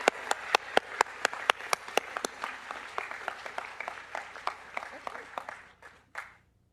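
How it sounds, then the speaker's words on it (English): Applause in an auditorium at a nursing honors convocation: sharp, distinct claps from a smallish crowd that thin out and fade, with a final burst of a few claps before quiet. "Big round of applause for these wonderful students."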